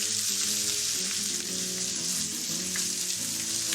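Onions, green and red capsicum and garlic frying in olive oil give a steady, close sizzle that holds at even loudness for a few seconds, with no voices over it.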